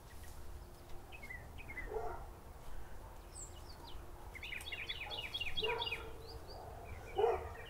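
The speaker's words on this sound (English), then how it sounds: "They got like 5 dogs. They're making all kinds of noise." Several neighbourhood dogs bark at a distance, scattered yips and barks coming in bursts alongside bird calls in an outdoor backyard setting, faint and far off.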